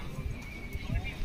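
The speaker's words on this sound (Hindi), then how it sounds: "ये है घोड़ी, कुमेत घोड़ी है, बढ़िया घोड़ी है" A bay (kumet) mare, about sixty in height, at the Sarangkheda horse fair lets out a neigh amid a busy crowd, close and moderately loud, with people talking around it.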